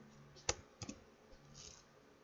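Computer keyboard keys clicked for commands: a sharp single keystroke, then a quick pair of softer clicks, close and quiet against a low hum.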